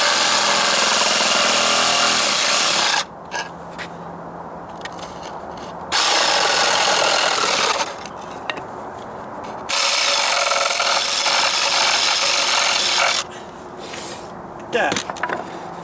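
A power tool used like a reciprocating saw or jigsaw cuts plywood near deck stairs against a stucco wall. Bursts of harsh, buzzing cutting alternate with quieter pauses in roughly three passes, close by.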